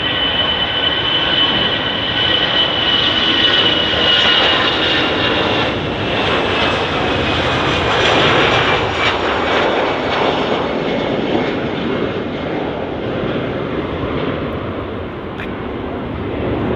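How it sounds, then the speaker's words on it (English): An EasyJet passenger jet departs Manchester Airport for Belfast, its engines roaring loud and close, then the thunder slowly fades as it climbs away. "EasyJet E320 now just departing for the short hop over to Belfast."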